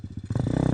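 Enduro motorcycle on an abandoned motocross track, engine rising from a pulsing idle into a rapid, loud full-throttle rev with a fast chugging beat over a short burst.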